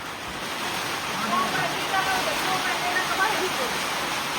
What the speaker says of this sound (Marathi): अहो आता पाऊस आला आता